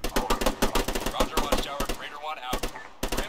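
Gunfire in Arma 3 in a jungle setting: rapid bursts of sharp, close shots, mostly in quick runs with short gaps, with players talking underneath.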